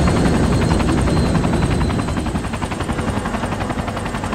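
A helicopter in a video game takes off with loud, rapid rotor chopping that pulses steadily over a heavy engine roar, staying close and continuous throughout.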